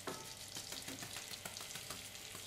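Sugar melts in a pan for a tarte Tatin, sizzling faintly while a wooden spatula stirs it in quick, repeated scrapes.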